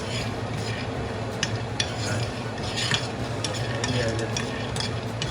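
Jaggery fried in ghee and stirred in a pan, giving a continuous gentle sizzle with scraping and clinking of a utensil against metal throughout.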